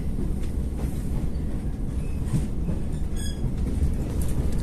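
A passenger train rolls along rails between Zilupe and Rezekne in border-region Latvia, with a steady loud rumble heard from inside the carriage and a brief high squeal partway through, no talking.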